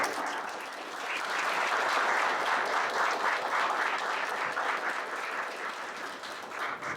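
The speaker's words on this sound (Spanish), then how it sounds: "a quien pido un fuerte aplauso" An audience gives Milvio Pérez sustained, dense applause. It swells and holds steady throughout, with no one talking over it.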